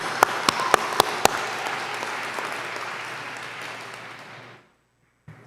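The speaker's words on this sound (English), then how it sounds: "let's give a big round of applause to Kitty and Roger" Gala audience at the House of Mercy fundraiser bursts into full applause, a few sharp claps standing out at first, then a dense wash of clapping that thins and fades to silence.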